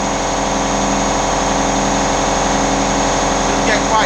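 An air compressor runs in a domestic garage workshop, a loud, steady droning motor hum that continues unbroken from start to finish.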